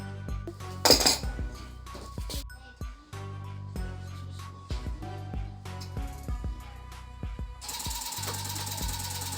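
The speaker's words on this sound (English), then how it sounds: "Opening up the gun now, and I'm going to start tufting for the first time." A steady mechanical whirring buzz runs throughout with rapid rattling and clattering, occasional louder bursts and a hissy surge near the end; no talking.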